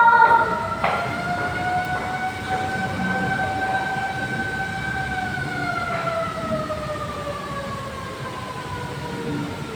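A fire engine siren wails steadily with a slowly falling pitch as trucks respond to a house fire, carrying over a broad background rumble of traffic and street noise.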